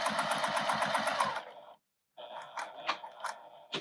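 Domestic sewing machine backstitching quilt binding at a corner: a fast, rhythmic run of stitches up close, a brief pause of silence, then a few short mechanical clicks and whirs as it reverses a stitch or two.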